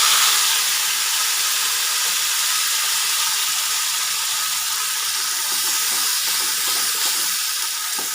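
A loud, continuous sizzle of onion and chili paste with whole cumin frying in hot oil, a bright hissing crackle that holds steady from start to finish.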